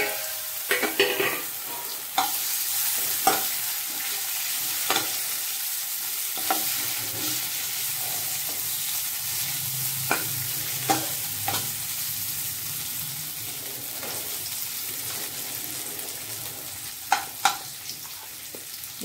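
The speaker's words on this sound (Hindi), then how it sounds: "थोड़ी सी हींग डालना है इसमें, ये कटे हुए आलू डाल देना है।" Chopped potatoes with a pinch of asafoetida frying and sizzling steadily in a pan for a dry amla sabji, with a continuous hiss broken by occasional sharp clinks and scrapes of stirring.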